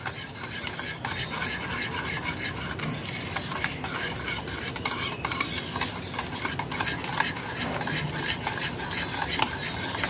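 A spoon stirs sugar into yogurt for steamed mango yogurt, producing a continuous, close scraping and clinking against the bowl in a quick, steady rhythm that runs without a break.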